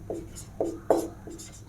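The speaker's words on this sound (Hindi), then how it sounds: "यहाँ पे लिखता हूँ" Chalk or marker strokes across a classroom board arrive as several short separate scratches in an uneven rhythm, close and moderately clear, with no voice.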